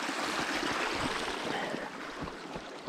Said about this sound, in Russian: там стоит труба и поступает сюда вода